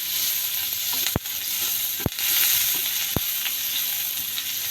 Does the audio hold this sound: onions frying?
yes